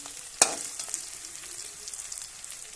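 Garlic and onion frying in oil make a soft, steady sizzle. It opens with one sharp clack of a utensil against the pan, followed by faint scraping and crackle, close and without voices.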